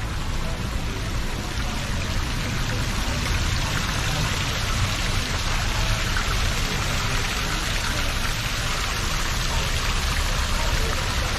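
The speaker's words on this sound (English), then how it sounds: "Oh, this is the waterfall." Indoor waterfall in a shopping mall in Entebbe, Uganda, giving a steady, full rushing and splashing wash of falling water that runs unbroken throughout at close range.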